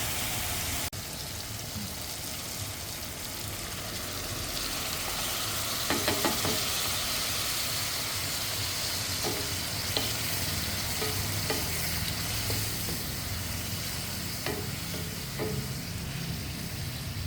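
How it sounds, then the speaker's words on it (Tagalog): Tomatoes sauté in hot oil for ginisang ginamos, a steady sizzle running throughout with occasional sharper clicks and scrapes of stirring, close and fairly loud, no talking. "Pagmamantikain po yung kamatis."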